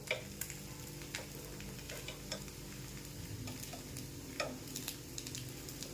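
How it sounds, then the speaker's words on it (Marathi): Rava appe frying in an appe pan as they are flipped one by one, with a steady low sizzle and scattered light clicks and scrapes of the turning tool against the pan. "मी एक एक करून आपले सगळे आप्पे आहेत ते पलटी करून घेते"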